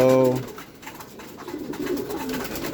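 Racing pigeons coo softly while feeding, low throaty calls under a steady rustle, with someone talking over them.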